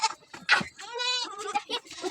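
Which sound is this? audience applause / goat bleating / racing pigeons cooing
goat bleating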